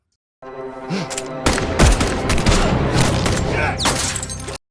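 Gunfire in a Korean film rattles in a loud, dense burst of rapid shots lasting several seconds, mixed with booms and dramatic soundtrack sounds.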